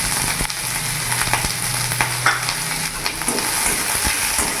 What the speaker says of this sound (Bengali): পেঁয়াজটা কিছুক্ষণ ভাজা করে নেবো, যাতে কাঁচা গন্ধটা চলে যায় পেঁয়াজের